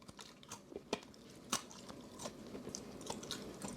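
Crisp crunching bites into slightly burnt homemade french fries, close and quiet, with several sharp crackling bites followed by softer chewing.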